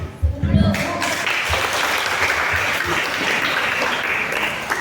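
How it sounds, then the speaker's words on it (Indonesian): An audience applauds contestants at a children's Easter competition, a sustained burst of clapping that fills the space while a voice talks over it. "sekali lagi kita tepuk tangan buat peserta dari Rayon"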